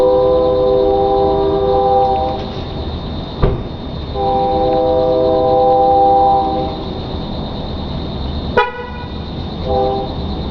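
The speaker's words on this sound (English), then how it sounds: "Somebody decided to pull up with their truck and park right in front of my place." A truck pulls up and parks right outside a home, its loud engine rumbling nearby with droning tonal whines that come and go and a couple of sharp metallic clunks.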